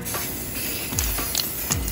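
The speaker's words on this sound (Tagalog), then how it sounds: "Kasi medyo nasarapan mag-spray itong asawa ko." A spray paint can hisses steadily while coating a rusty e-bike, a continuous close-up spray with a few faint clicks and bumps during the pass.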